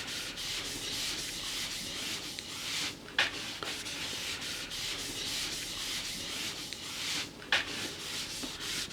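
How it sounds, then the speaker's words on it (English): Sandpaper rubs the old finish off an Astor KK radiogram cabinet in steady back-and-forth strokes, close and even, with a couple of sharper scuffs. "So I'm going to sand this off, all the rubbish that's on there"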